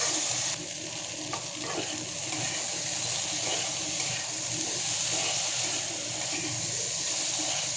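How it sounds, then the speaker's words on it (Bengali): Taro stems and onion fry together in a pan for a Bengali gati kochu dish, a steady, close sizzle with faint stirring scrapes throughout and no talking. "পেঁয়াজটাকে দিয়ে গাঠি কচিগুলো একসাথে একটু ভেজে নেব"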